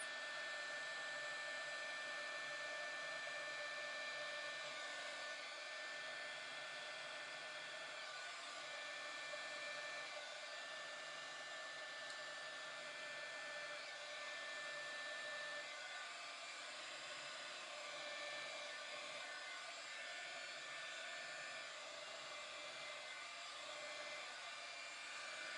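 A heat tool blows steadily on paint on a glittered tumbler, a constant, even whooshing hum that holds throughout at moderate, close level.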